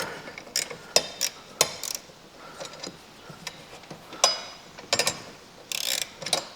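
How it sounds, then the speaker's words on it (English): A 1/2 inch ratchet wrench clicks in quick uneven bursts while tightening bolts on a wheelbarrow during assembly. The clicks are close, with light metallic handling noise between them. "Have these ratchet wrenches, why not use them?"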